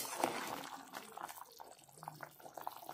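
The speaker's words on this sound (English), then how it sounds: "We'll give a good stir" Smoked pork cooked with Anishi, the Naga way, gets stirred in the pot, giving faint, scattered wet squelches and soft liquid splashes at a low level throughout.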